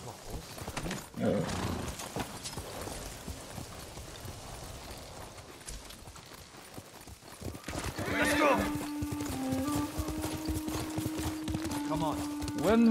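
Hooves clip-clop at a walking pace in the video game Ghost of Tsushima, then a horse whinnies loudly, with voices talking over the scene and a low musical drone underneath.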